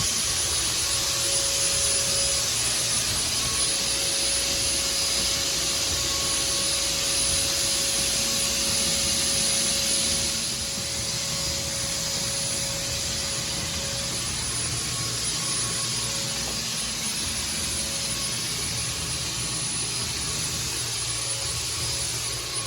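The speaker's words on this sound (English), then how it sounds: "As we turn the machine on, you have to wait for the Dahlgren chemical to get all the way up through the induction hose and allow the fogging to start" A decontamination fogging machine running with Dahlgren chemical drawn up an induction hose gives a steady, loud, jet-like roar with a constant high whine, continuous and alone for the whole stretch.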